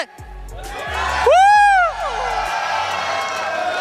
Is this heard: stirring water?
no